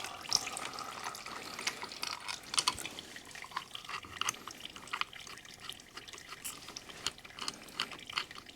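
Engine oil drains from a five-year-old Honda CRF250L motorcycle, a close, continuous trickle and patter of liquid with scattered small splashes and drips.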